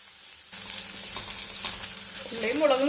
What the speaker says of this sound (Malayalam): ഉള്ളിയും മുളകും കരിഞ്ഞു പോവാതെ നമ്മൾ നന്നായിട്ട് ഇളക്കിക്കൊണ്ടിരിക്കുക